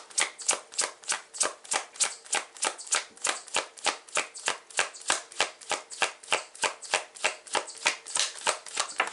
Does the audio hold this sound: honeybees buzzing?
no